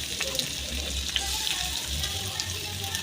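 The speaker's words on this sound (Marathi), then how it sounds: "आता मी थोडे जिरे टाकते थोडी मोहरी लसूण कढीपत्ता कांदा घालून घेते" Cumin, mustard seeds, garlic, curry leaves and onion fry in a pan for a ridge gourd chutney, giving a dense, steady sizzle with faint pops, close and even from start to finish.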